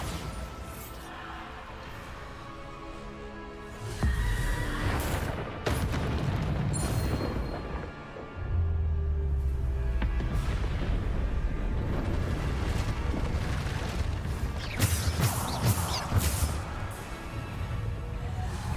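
Repeated Bombarda spell explosions from the wizarding video game Hogwarts Legacy, a string of loud booming blasts over a steady, busy game soundtrack, with heavy low rumbles around the middle and again near the end.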